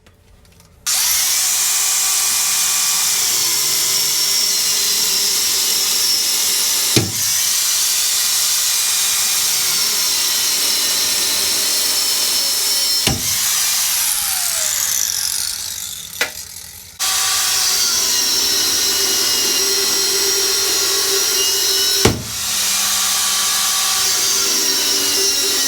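A power cutting tool grinds loudly and continuously through rusty suspension bolts on a 1999–2006 Chevrolet Silverado, with a few brief pauses and sharp metallic clanks between passes.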